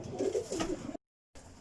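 Pigeons coo in a loft, their soft low throaty calls rolling in a couple of close bursts before a brief silence and a quieter return.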